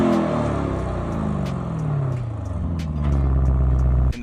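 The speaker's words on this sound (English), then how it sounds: "you get a twin turbo V8 with the same 657 horsepower that's in the Urus Performante. So it sounds amazing." The twin-turbo V8 of a Lamborghini Urus S, rated at 657 horsepower, revs loud and close with a deep rumbling roar. Its pitch drops as the revs fall, then the engine settles into a steady growl with no talking.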